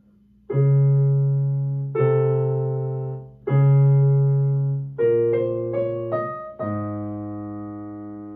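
Keyboard plays a slow sequence of sustained chords, bass line and soprano line together, each note struck and left to decay.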